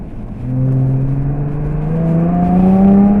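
A 2013 Jaguar F-type with a 3.0 litre V6 accelerates to overtake on a UK road, its engine note climbing steadily and growing louder from inside the car over about three seconds.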